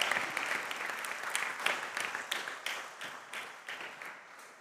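An audience at a school quiz competition claps, a fairly faint, distant round of applause with loose rhythmic beats that gradually thins out.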